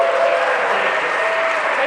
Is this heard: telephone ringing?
no